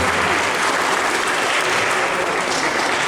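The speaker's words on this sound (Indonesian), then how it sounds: "Sekali lagi tepuk tangan untuk SMA Negeri 2" Dense, loud applause from a crowd at a school volleyball coaching clinic, a continuous wash of clapping held steady throughout.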